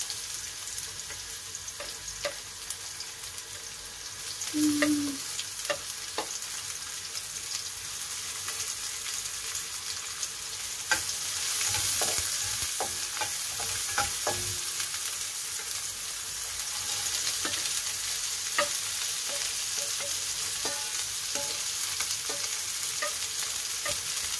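Meat sautéing in oil with onion and red chili in a pan for Filipino dinuguan, a steady close sizzle and crackle with scraping stirs throughout.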